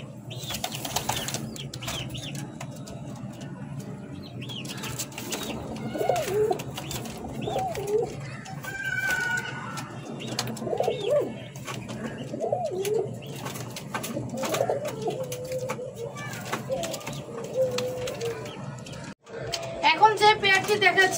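A white male and black female breeding pigeon pair among caged birds coo in low, rolling phrases with bursts of wing flapping, under steady speech from a man nearby.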